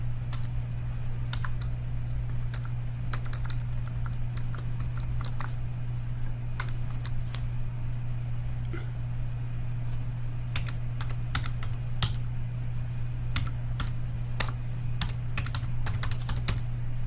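Typing a file name on a computer keyboard: a string of light, irregular key clicks runs steadily over a constant low electrical hum, close and quiet, with no talking.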